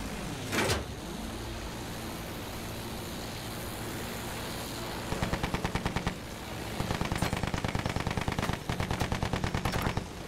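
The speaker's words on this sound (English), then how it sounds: "Anti-aircraft guns, there!" Anti-aircraft guns in Battlefield 1 fire in rapid, rhythmic bursts of heavy thumping shots over a steady droning background, the repeated volleys coming in several loud clusters.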